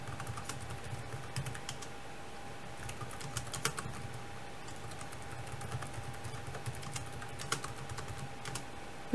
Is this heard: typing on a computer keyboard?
yes